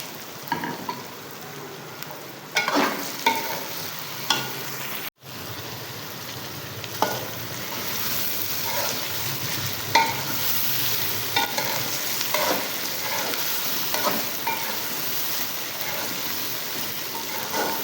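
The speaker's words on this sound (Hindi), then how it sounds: "अब हम इसमें टमाटर और सब्ज़ मिर्चें ऐड कर देंगे।" Tomatoes and green chillies sizzle in a pan for karela gosht while a spoon stirs and scrapes, a steady crackling fry broken by repeated knocks and shuffles close by.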